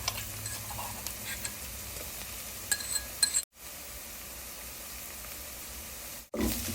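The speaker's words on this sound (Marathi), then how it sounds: "पण आता हे कुठलेलं अद्रक लसूण मिरची घालूया यात." Onion with ginger, garlic and chilli sautéing in a pan for sarson saag, a faint steady sizzle with a few clinks of a stirring spoon, broken by two brief silent cuts.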